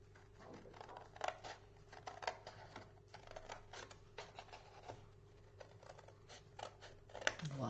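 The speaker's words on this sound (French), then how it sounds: "Je prends ma paire de ciseaux. Alors, je vais venir couper ici." Scissors snip through paper in a series of close, crisp cuts at an uneven pace, with light rustling in between.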